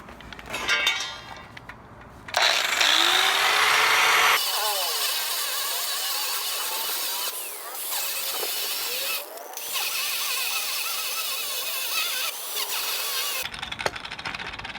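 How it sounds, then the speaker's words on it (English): A handheld power grinder grinds a weld off a motorcycle sidecar mount, whining steadily for about nine seconds at close range, with scraping metal texture and short bursts before and after. "I gotta grind off the weld now"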